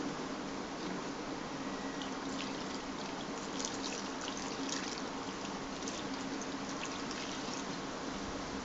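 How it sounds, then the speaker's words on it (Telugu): Water being poured into a cucumber and prawn curry during cooking, a steady faint trickling stream that continues evenly without pause, quiet and alone with no talking. "సరిపడా వాటర్ కూడా పోసేసుకోవాలన్నమాట."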